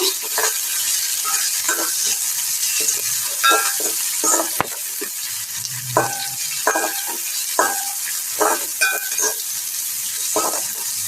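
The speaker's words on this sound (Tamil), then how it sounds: "கொஞ்சமாக கறி மிளகா அதே மாதிரி வெங்காயம் சேர்த்து நல்லா வளர்த்து விடுங்க" Curry chilli and onion fry in hot oil with a continuous loud sizzle, broken by intermittent spoon scrapes and stirring clatter in a pan for a Jaffna-style brinjal and chickpea curry. No voices.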